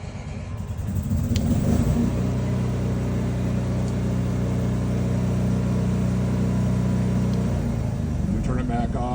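A 2020 Fleetwood Flair 28A motorhome's onboard generator cranks briefly, then settles into a steady, droning hum that runs close and loud for several seconds before tapering off.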